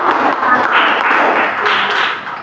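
A classroom of students applauds together, a dense, steady wash of hand clapping that stays loud and even for a couple of seconds.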